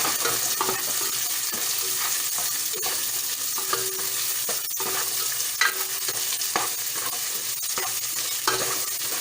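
Garlic and onions fry in a pan before leftover turkey is added, giving a steady bright sizzle throughout with scattered clicks and scrapes of stirring, close and alone with no talking.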